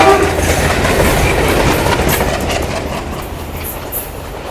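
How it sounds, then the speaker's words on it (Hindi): The 22361 Rajendra Nagar Patna–New Delhi Amrit Bharat Express arrives at a platform with a loud, continuous rumble of rolling wagons and wheel clatter close by, with no talk. "22361 अपनी राजेंद्र नगर पटना नई दिल्ली अमृत भारत एक्सप्रेस अराइव कर रही है"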